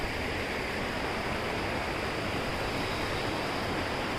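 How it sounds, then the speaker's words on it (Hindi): Dudhari waterfall gives a steady, dense rush of falling water that holds even and unbroken throughout, with no voices over it. "इसका नाम है दुधारी वाटरफॉल"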